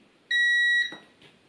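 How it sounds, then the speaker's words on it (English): A multimeter on continuity setting, testing a motorcycle horn switch, gives one clear, loud electronic beep lasting about half a second, followed by a faint click. "we have The beep indicating continuity, that's horn switch is working."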